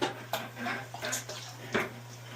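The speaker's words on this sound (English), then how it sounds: "making sure that that water makes it all the way up to the top of my basket" Water pours from a hose into a plant basket in an outdoor garden, a soft splashing and trickling heard up close with a few louder gushes and a steady low hum beneath.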